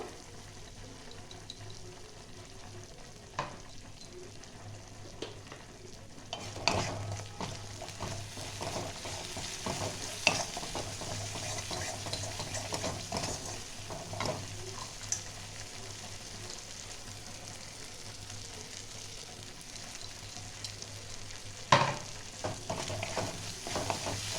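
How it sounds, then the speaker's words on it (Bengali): A paste of ground cashews and poppy seeds fries in a pan, a soft low sizzle running throughout with occasional sharp scrapes and knocks from stirring, close but fairly quiet, with no talking. "এটা একটু ভেজে নেব।"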